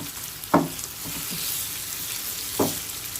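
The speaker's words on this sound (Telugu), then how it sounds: "ఆనియన్స్ ఫ్రై అయిన తర్వాత అల్లం వెల్లుల్లి పేస్ట్ వేసేద్దాం." Ginger-garlic paste sizzles in oil with fried onions and curry leaves for a prawn dish. A steady close hiss carries two distinct spoon scrapes about two seconds apart, with no speech.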